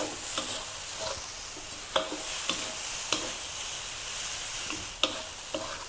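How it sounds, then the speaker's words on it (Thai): Rice being stir-fried with about two teaspoons of sugar over low heat, a soft steady sizzle with spoon scrapes and clicks at irregular intervals, close and fairly quiet. "ทีนี้ผัดเลยค่ะไฟอ่อนนะคะ ค่อยๆผัดค่ะ"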